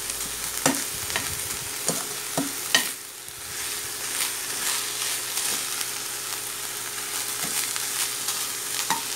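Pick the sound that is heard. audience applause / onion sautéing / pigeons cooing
onion sautéing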